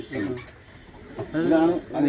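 Domestic pigeons kept by a keeper, including a two-year-old bird, coo in low throaty rolling phrases close by, two or three bursts with a short pause between, with some background voices and noise.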